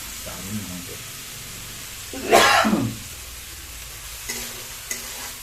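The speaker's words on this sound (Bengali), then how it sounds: "মা এখানটা খুব সুন্দর করে একটু নাড়িয়ে চাড়িয়ে নিচ্ছে যে মশলাগুলো এখানে দিয়ে দিয়েছিল" Spices and water being stirred in a pan for an egg curry with eggplant, heard as one loud scraping swish in the middle, a faint sizzle throughout and a couple of small knocks near the end.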